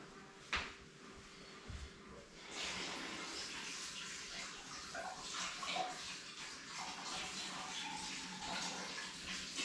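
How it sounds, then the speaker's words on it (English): Running water from a tap flows steadily as a paint brush is rinsed after acrylic fluid painting, a continuous broadband rush that starts after a couple of seconds of quieter handling noises. "I'm just going to wash my brush."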